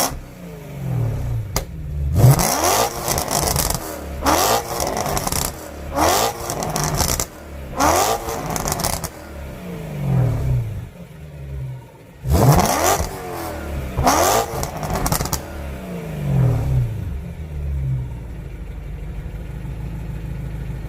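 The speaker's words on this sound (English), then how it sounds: "So that's stock muffler." A BMW E92 M3 engine on its stock muffler exhaust revs repeatedly in sharp bursts, each blip climbing and falling back, loud and close, with brief idle gaps between pulls and no talking.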